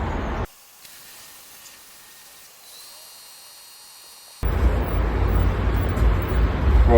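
Water drains out of an Oase ProfiClear Premium Compact-M pumped EGC drum filter: a brief hiss, a near-silent stretch, then a loud, steady rushing gush of water close by.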